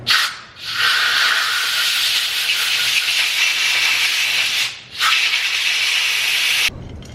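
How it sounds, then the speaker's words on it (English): Compressed air blasts through the carburetor orifices of a 1967 Sears/Gilera 106SS barn-find motorcycle: a loud, close, sustained hiss, broken twice by brief pauses before it cuts off. "Really, what cleans out the orifices is the compressed air."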